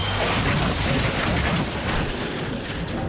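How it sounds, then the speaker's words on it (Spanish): A truck overturning on a highway makes a loud, dense crashing roar with booming impacts and rumbling debris, sustained for about three seconds. "fue el estruendo del camión volcándose"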